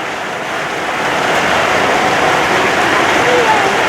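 Rain falling over a town in Savannakhet province, Laos, a dense steady hiss of drops on surfaces, constant and fairly loud with some wind noise and no clear talk.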